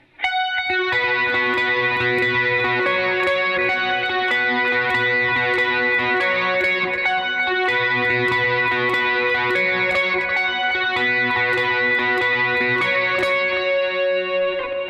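Electric guitar plays the riff through distortion, chorus and delay effects, a steady picked pattern ringing with echoing repeats, loud and continuous without any talking.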